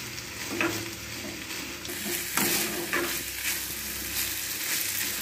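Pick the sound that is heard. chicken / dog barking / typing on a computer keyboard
chicken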